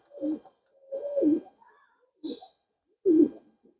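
Pigeon coos in four separate low, rounded bursts with short pauses between them, close and fairly quiet against a silent background.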